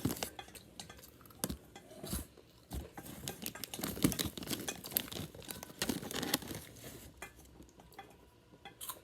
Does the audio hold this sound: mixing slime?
yes